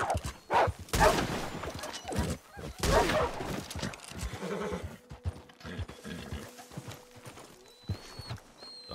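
A horse in the video game Red Dead Redemption 2 moves over the ground in heavy bursts of hoofbeats with a whinny, loud at first, then fading into quieter game ambience.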